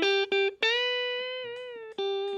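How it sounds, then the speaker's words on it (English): An electric guitar plays sustained notes, with a string bent up a half step following an initial bend; the tones ring clear and alone, separated by short picked attacks. "he bends half a step after an original bend"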